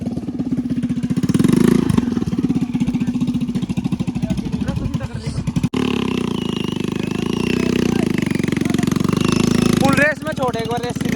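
Motorcycle engine, an open Lion bike racing a Splendor, roars at heavy throttle up close, with a steady drone broken by a cut near the middle and then a rising surge; people talk over it throughout.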